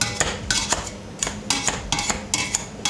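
Drained boiled potatoes mashed in a pot, with a metal masher striking the pot in about a dozen sharp, clanking hits in an uneven rhythm and soft squelching between them, close and clear with no talking.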